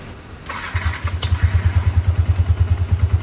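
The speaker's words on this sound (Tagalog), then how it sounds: "So try natin paandarin yung motor." Yamaha Sniper 150 motorcycle engine cranking and catching, then settling into a loud, steady rhythmic idle pulse up close, with no talking.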